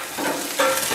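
Food sizzles on an outdoor barbecue grill, giving a short burst of dense, close hissing that swells slightly toward the end.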